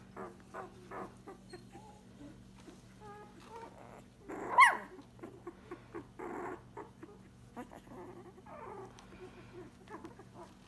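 Basenji mix puppies under two weeks old, their eyes not yet open, make faint high squeaks and whimpers scattered through the clip, with one louder yelp midway. No voices.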